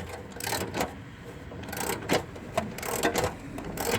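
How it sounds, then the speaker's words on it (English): A bolt runs down with a ratchet on a long extension while fitting adjustable rear upper control arms on a 2000-2015 Ford Focus, quiet irregular clicking and ratcheting bursts close by, no talk. "I'm just using my long extension that I showed you earlier there. And we're not going to tighten it, we're just going to run the bolt down"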